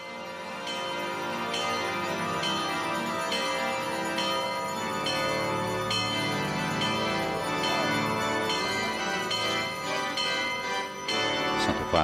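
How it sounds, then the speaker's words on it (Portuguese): Festive church bells of St. Peter's Basilica in the Vatican peal loudly and continuously during a Christmas night Mass, several bells overlapping in a dense, ringing wash with repeated strikes throughout. "Sinos da Basílica de São Pedro em festa."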